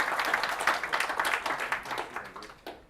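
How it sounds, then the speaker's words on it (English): A small group claps for a few seconds, the applause fairly close and lively before tapering off. "give him a round of applause"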